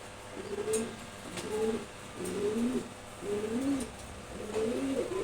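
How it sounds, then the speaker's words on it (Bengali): Close, repeated cooing from a pair of Maksi Huma pigeons, a male and female, in a steady rhythm of about five rolling coos, with no talking. "ম্যাক্সিমো কবুতর জোড়া, সামনেরটা হচ্ছে নর, পিছনেরটা মাদি।"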